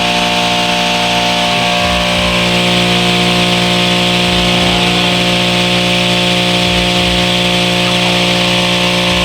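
A repaired electric power tool, a grinder or sander, runs steadily after being plugged in, a loud, close, constant whine with a strong even hum and no wobble or interruption.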